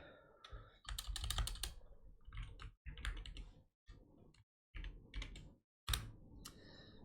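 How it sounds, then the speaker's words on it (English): Close, fairly quiet bursts of computer keyboard typing during an online chess game, quick clustered keystrokes broken by short pauses, with no voices. "I'm gonna type in the chat."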